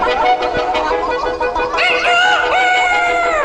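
A rooster crows loudly and close, a long strained call rising and falling, with some clucking around it.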